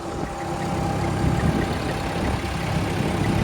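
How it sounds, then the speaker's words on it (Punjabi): A generator drives an electric water pump motor on a Punjab farm during a power cut, giving a steady, loud engine drone with a low rumble that runs unbroken throughout. "ਮੋਟਰ ਚਲਾਈ ਆ ਆਪਾਂ ਜਨਰੇਟਰ ਤੋਂ"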